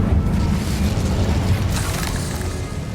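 Incendio fire spell cast in the Hogwarts Legacy video game, a heavy low whooshing boom that roars at once and then slowly fades over a few seconds, with no voice.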